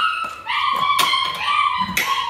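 German Shepherd puppies in a kennel yip and whimper in a run of high, wavering cries with a few sharp yelps, close and fairly loud.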